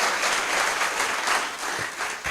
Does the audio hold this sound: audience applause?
yes